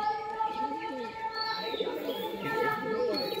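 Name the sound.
pigeons cooing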